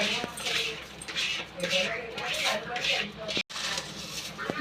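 Puffed rice snack mixture tossed and stirred with lemon juice in a large bowl, giving a steady crisp rustling and scraping with clinks against the bowl, running continuously under a talking voice.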